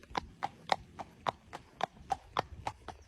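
A horse walks along a country lane or bridle path, its hooves striking in a steady clip-clop of about eleven evenly spaced hard knocks, close and clear.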